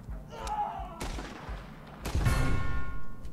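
Sniper rifles fire in a Totally Accurate Battle Simulator military-base battle: two loud, sharp reports about a second apart, each trailing into a rumbling echo over a busy background of distant combat noise.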